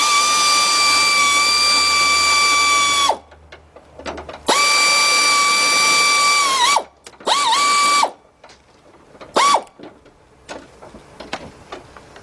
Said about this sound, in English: I'm gonna finish taking this bolt out